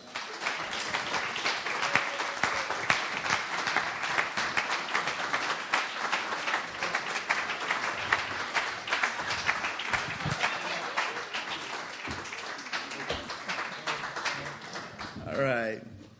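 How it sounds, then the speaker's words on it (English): Sustained audience applause welcoming guests Tony Norman and Bruce Kraus onto the stage at a faith community talk event, dense steady clapping throughout that thins near the end. "let's give them a big round of applause, all right?"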